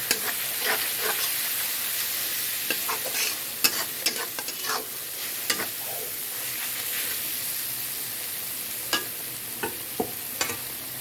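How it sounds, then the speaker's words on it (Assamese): Turmeric powder being stirred into chicken in a pan, with a steady sizzle of frying and scattered clicks and scrapes of a spoon. "হালধিখিনি দি কিনে লাহেকৈ ইয়াত লৰাই দিব লাগিব ভালকৈ।"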